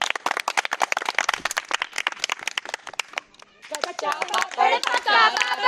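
An audience applauds sanitation workers at a cleanliness event in Dewas, a burst of sharp hand claps for about three seconds that fades into a gap, followed by voices speaking.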